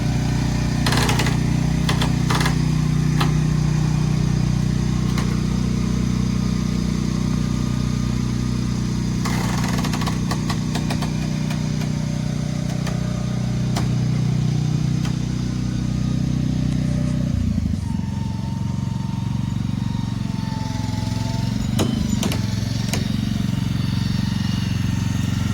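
A vehicle engine drones steadily at close range while hauling a yellowy white shed down a street, with a low rumbling hum that drops off abruptly partway through and leaves quieter rattles and road noise.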